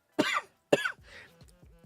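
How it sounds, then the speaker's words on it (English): Two sharp, close coughs about half a second apart, followed by a softer throaty rasp and quiet breathing. "Pardon if I'm coughing a little bit."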